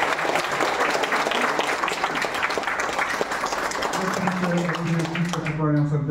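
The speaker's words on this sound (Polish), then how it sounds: "Bardzo brawo dla Pani Kantorne" Dense, sustained applause fills a conference hall after a speaker asks for it. Toward the end, a voice begins speaking over the fading clapping.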